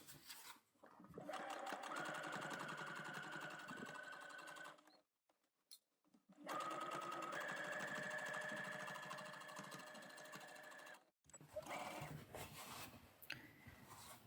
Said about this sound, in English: now you're going to sew close to the edge of that fold